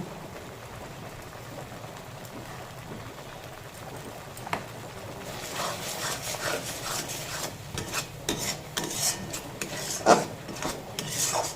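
Spice paste with potatoes and sugar is sautéed in a pan, with soft rubbing and scraping of a utensil against the pan. The sound is faint at first, then grows busier and more steady.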